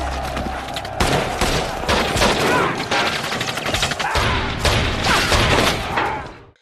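Continuous rapid gunfire fills a film battle scene, dense overlapping bursts of automatic shots hammering without letup for several seconds, loud and close, with a few heavier booms mixed in before it cuts off.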